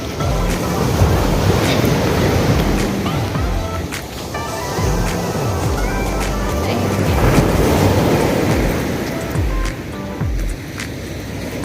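Big ocean waves roll and crash on the shore in a continuous loud surging wash with rhythmic low rumbles, heard up close and alone without talk.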